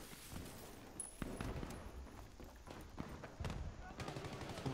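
Shotgun blasts ring out in a Battlefield 3 multiplayer match, several reports scattered through a busy, noisy game mix, with players talking over the action.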